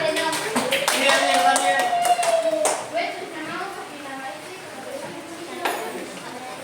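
A classroom of primary school children claps hands in a burst of rapid, overlapping claps that taper off, while a voice talks and children's voices carry in the background.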